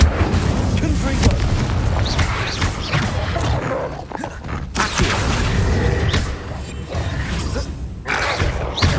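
The Confringo fire-blast spell exploding in Hogwarts Legacy, a dense booming roar of blasts and rumbling effects that stays loud throughout, with a brief dip partway and a spoken incantation nearby.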